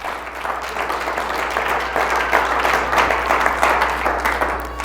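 A church congregation applauds together, a dense, steady clapping from many hands that holds at a moderate level for several seconds.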